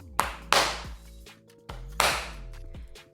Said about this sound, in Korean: 박수로만 쳐볼게요.